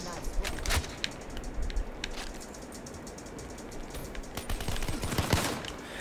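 Video game gunfire, with scattered bursts of rapid shots at moderate volume, some sharp single cracks and a busier flurry near the end.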